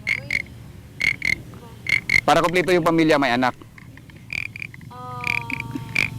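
Frog croaks are imitated on a bamboo instrument and a goat horn, sounding as repeated paired croaks near the mic. Someone speaks briefly partway through.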